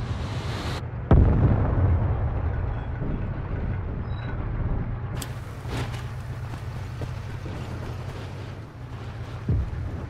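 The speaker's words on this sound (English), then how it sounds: "Airstrike fast approaching" Airstrike explosions in a tactical video game, with a sudden loud blast followed by a long rumbling roar and a few more distant booms and pops.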